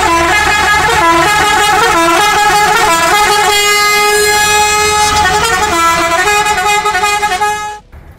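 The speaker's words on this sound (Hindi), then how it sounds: "क्या साउंड है हॉर्न का, जानिए इस वीडियो में।" A loud electric two-pipe horn fitted on a Suzuki pickup blares a continuous, shifting musical tune for several seconds, close and piercing, then cuts off abruptly.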